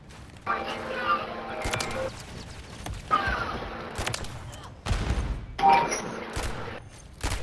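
RW1 pistol shots in a video game crack out in a few spaced groups, sharp loud reports with short pauses between, while a player talks over them.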